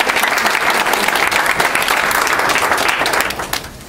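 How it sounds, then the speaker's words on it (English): Applause fills a hall at a nurses' graduation ceremony, dense clapping that holds steady for about three seconds, then thins and fades toward the end. "So we can give Mickey a round of applause"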